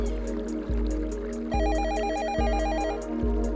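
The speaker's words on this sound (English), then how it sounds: "We should investigate the mysterious phone ringing coming from underneath the sink." A phone rings from beneath a sink in a puzzle video game set among pipes, a digital warble repeating in short bursts over a low steady hum, with faint trickling water behind it.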